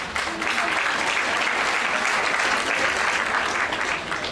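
Audience applause at a Habayit community event with a rabbi speaking, a steady, dense wash of clapping from a crowd that holds evenly for several seconds, with no voices standing out.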